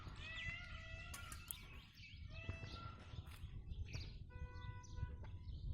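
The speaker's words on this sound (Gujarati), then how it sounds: "અને મોર પણ બોલે છે" Loud, wailing, meow-like peacock calls ring out several times in the early morning over a busy outdoor background with other chirping birds.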